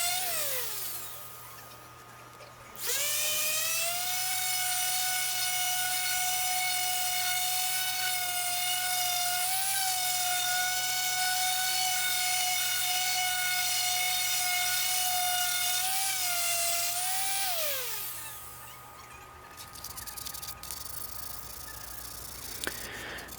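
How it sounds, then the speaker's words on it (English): A power sander running rough grit on a wooden shield whines at a steady high pitch for about fifteen seconds, starting abruptly and winding down at the end, loud and close with no voices. "This is the rough grit sanding right here."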